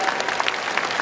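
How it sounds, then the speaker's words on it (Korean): Audience applause at an open talk during the Busan International Film Festival, a brief, moderately loud patter of many hands clapping at once, steady with no other sounds. "정수에게 큰 박수 부탁드립니다."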